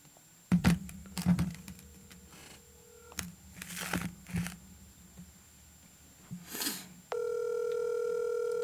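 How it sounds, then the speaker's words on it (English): A phone call dials out, with scattered handling clicks and taps before a steady electronic ringback tone starts near the end and holds continuously. "It's ringing."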